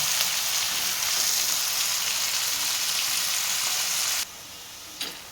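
Onions fry in oil for tomato rice with a bright, steady hissing sizzle while they are stirred until reddish. The sizzle drops off sharply near the end, then a single brief clink follows, with no voices.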